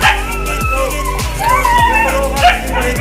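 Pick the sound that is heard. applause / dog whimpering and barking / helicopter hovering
dog whimpering and barking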